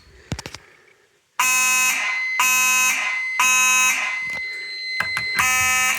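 A fire alarm horn sounds after a pull station is activated during a system test, blaring in loud repeated bursts of electronic tone with short gaps, after a few faint clicks at the start.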